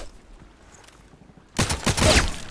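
A gunshot in the online shooter Contract Wars: quiet background for over a second, then a sudden loud blast followed by a burst of further shots and echoing rumble.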